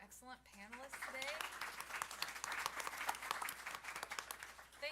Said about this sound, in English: I would love a round of applause for our excellent panelists today